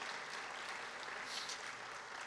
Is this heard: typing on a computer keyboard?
no